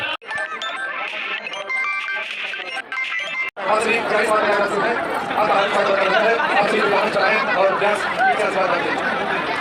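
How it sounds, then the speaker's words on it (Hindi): A large crowd at an outdoor Bhagwat Katha religious gathering, starting with some quieter mixed sounds before a dense wall of overlapping chatter and voices swells in and continues loudly. "देखते रहिए कितनी मतलब भीड़ है चारों तरफ।"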